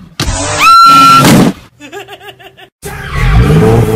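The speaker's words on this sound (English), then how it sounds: "you just got hit by a car!" A car's tires squeal in a sharp skid, followed by a brief buzzing, pulsing tone and then a heavy, noisy impact rumble as the car hits a person.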